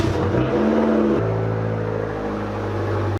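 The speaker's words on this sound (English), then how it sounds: "let's get these two loud muffler delete cars out of the garage" A turbocharged Smart car with a muffler delete gives a loud, raw, droning exhaust note close by; the pitch shifts partway through, then settles into a steady rumble.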